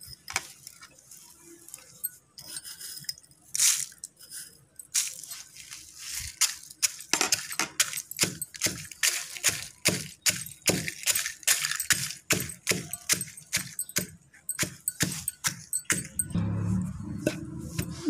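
Chillies, peanuts, cumin and salt being pounded in a stone mortar for a mango chutney: a steady run of sharp, close knocks, irregular at first, then settling into a fast repeated rhythm of hard thuds and clinks.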